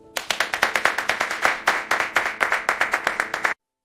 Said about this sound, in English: The staff clapped.